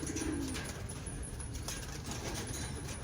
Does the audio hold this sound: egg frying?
no